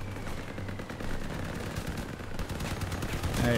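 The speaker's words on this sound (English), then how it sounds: "Oh no, they got shotguns." Dense, continuous gunfire rattles through a Crossout vehicle battle, shotgun blasts and other weapons overlapping in rapid bursts with steady mechanical rumble underneath, loud and unbroken throughout.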